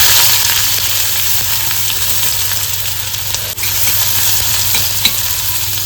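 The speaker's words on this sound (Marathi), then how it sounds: "फोडणीसाठी ना पहिला एक कांदा घालून घेतोय." Onion sizzling in hot oil as tempering for a prawn curry, a loud steady crackle with a few stirring clicks and no voices.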